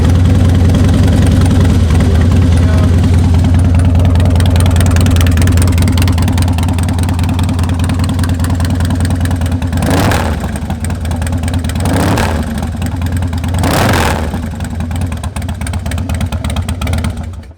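Carbureted 2003 Harley-Davidson Fat Boy motorcycle engine idling loudly and close up with a deep, lumpy rumble, then revved three times in quick blips before settling back to idle.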